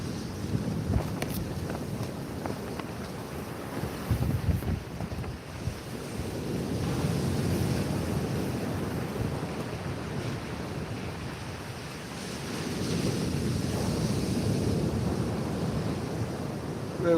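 Strong wind buffets the microphone on a beach at Southbourne while rough sea surf roars and swells steadily. The noise is loud and continuous, rising and falling in long waves, with no voices.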